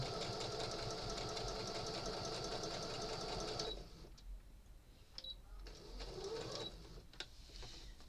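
Sewing machine stitching a rag lap quilt, a fast steady rhythmic whir close by for about four seconds, then stopping, followed by faint clicks and handling noises.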